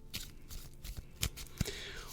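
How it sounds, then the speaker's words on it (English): A deck of tarot cards is shuffled by hand nearby, giving quiet, irregular riffling and snapping bursts with a few sharper card slaps, and no talking. "let me apologise for the card shuffling"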